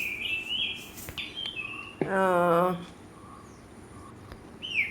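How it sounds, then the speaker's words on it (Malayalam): Several bird chirps and tweets at moderate distance, with one louder rising call in the middle, over a quiet outdoor background. "കിളികളുടെ ശബ്ദങ്ങളും"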